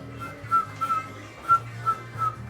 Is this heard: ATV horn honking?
no